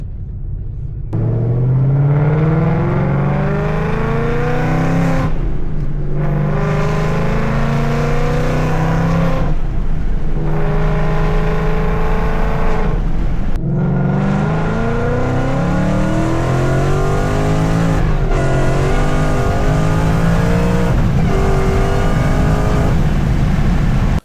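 A car's active exhaust drones and rumbles steadily while driving through downtown, rising and falling in pitch as the engine revs up through the gears. It stays loud and close throughout.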